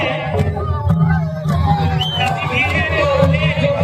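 A large crowd at the Jitiya fair (jatra) in Khaddevri, Bero block, fills the air with constant hubbub, scattered shouts and whoops, while an amplified voice speaks over the din.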